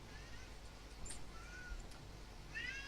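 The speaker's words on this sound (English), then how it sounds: "I hear a kitty" A pet cat meows quietly indoors: a few short, faint meows spread across a few seconds over a low background hum, the last one rising and wavering.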